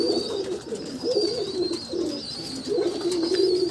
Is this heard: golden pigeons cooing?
yes